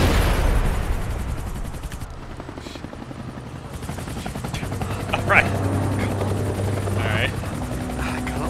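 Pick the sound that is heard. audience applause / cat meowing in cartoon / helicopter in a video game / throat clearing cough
helicopter in a video game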